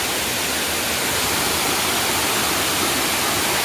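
The Banacha waterfall near Dhamapur village in Sangmeshwar roars as a dense, loud, unbroken rush of falling water, heard close and alone.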